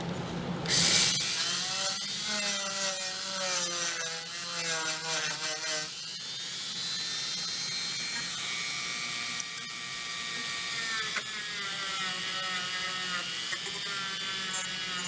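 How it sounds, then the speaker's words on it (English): Small Dremel rotary tool whirring steadily while cleaning corroded wiring on an old, worn-out Ford truck, a close continuous high-pitched whine that wavers in speed through the first seconds and then holds fairly even. "Let's see if we can get a Dremel in there"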